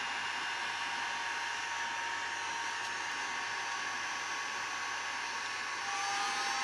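A Steinel HG 2320 E hot air gun with digital display blows steadily, a constant broadband rushing hiss with a faint motor whine, unbroken and close for the whole stretch.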